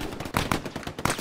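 Rapid, close gunfire in the Hell Let Loose World War II shooter, a burst of sharp cracks at uneven intervals over roughly a second, with no speech.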